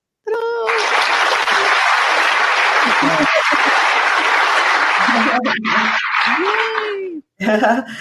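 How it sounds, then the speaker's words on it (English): Applause sound effect, a loud, dense burst of clapping lasting about seven seconds, with a voice speaking briefly at the start and again as the clapping cuts off. "So let's put a little applause on."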